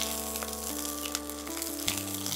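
Garlic frying in very hot oil for spinach puri, a steady close sizzle with faint crackles and no talking.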